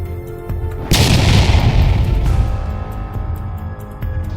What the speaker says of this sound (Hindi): कंकाल राज जमीन पे गिर जाता है और वहाँ पे एक विस्फोट होता है।